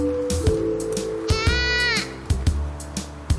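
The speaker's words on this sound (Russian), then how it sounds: "звук, который издает кукла, это звук А." A toy doll crying with a long wavering wail in the middle, fairly loud, between short clicks and thumps, with no speech.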